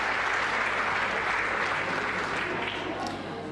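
An audience at a science awards ceremony applauds the finalists, a dense, sustained wash of clapping from a large crowd that fills the room and tapers slightly toward the end.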